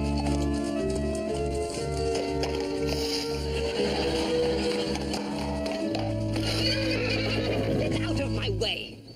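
A horse whinnies loudly while hooves clip-clop in an even rhythm on a hard surface, close by, with a voice in the background.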